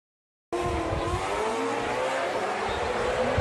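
Drift cars race tandem at Formula Drift Japan, a loud engine roar bursting in suddenly and holding steady, with tire noise layered over the howl.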